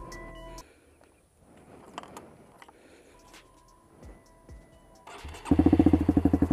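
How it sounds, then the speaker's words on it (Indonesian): A motorcycle fitted with a Proliner exhaust is started after a quiet pause, catching with a sudden loud burst and then settling into a steady, throbbing, pulsing idle close by. "nyalakan dulu motornya ya"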